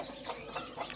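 Desi hen near her brooding eggs giving a few soft, short clucks in a quick series, close by and quiet.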